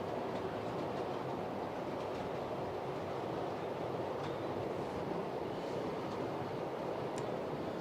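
An intercity train in executive livery runs through a station with a continuous low rumble and faint rail clatter, steady and moderately close, with no voices.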